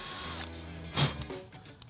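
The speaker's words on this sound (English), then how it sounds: "so I need to drill a hole" A drill bores a hole through foam in a short burst, with a whirring start that cuts off, then a scraping pass and a small click at the end, close by.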